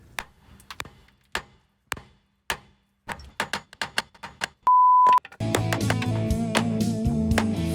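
Repeated metal hammer whacks drive a tie rod end out of an old Ford F250 7.3 truck's steering linkage, sharp single strikes spaced about a second apart, then a steady beep and a dense burst of louder clattering.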